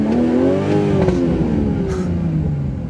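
A 2020 Toyota GR Supra with 340 PS revs close up, its engine note sweeping up and then falling away over a few seconds, with a few sharp exhaust pops and no talking.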